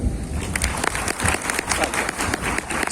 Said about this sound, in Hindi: तो इसके लिए अपने लिए तालियां।